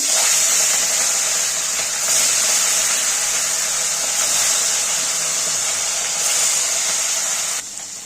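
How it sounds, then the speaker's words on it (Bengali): Katla fish frying in hot oil, a loud, steady sizzling hiss that holds evenly close up for several seconds before easing slightly at the end, with no voices. "দেখো তেলটা গরম হয়ে গেছে, এবার মাছগুলো আমি ভেজে নেব।"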